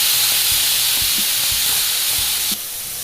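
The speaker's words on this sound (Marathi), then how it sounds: "आपली कढई गरम झाली आहे, टोमॅटो घातले आपण त्यामध्ये।" Tomatoes sizzle in a hot, dry kadai with no oil or water over a low gas flame, a bright continuous hiss with soft stirring knocks, close and alone, easing slightly toward the end.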